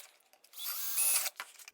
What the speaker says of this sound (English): drill those 2 1/8-inch holes at the front and the back of this container